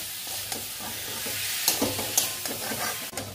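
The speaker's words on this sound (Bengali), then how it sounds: "এবার খুব ভালো করে মেশাবো" A vegetarian papaya curry with spices is stirred in a hot pan. A spoon scrapes and clatters in an irregular rhythm over a continuous close sizzle of frying.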